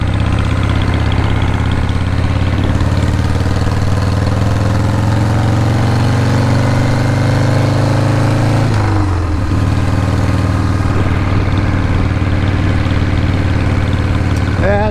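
A 1980 Harley Shovelhead motorcycle idles loud and close with a steady lumpy throb. Its pitch sags and wavers midway and briefly stumbles before settling back. The bike has a fault that makes it quit on the primary gas tank.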